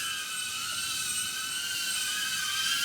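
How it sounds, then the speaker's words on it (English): A DJI Avata FPV drone flies fast in sport mode around a backyard, giving off a steady, high-pitched propeller whine with a constant buzz, close and loud, with no talking. "Now really zooming around the backyard."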